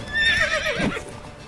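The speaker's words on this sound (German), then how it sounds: "Die Rappstute wieherte laut" A black mare gives a loud, drawn-out whinny at full gallop, the high wavering neigh rising and falling over a second, close and prominent with no voices.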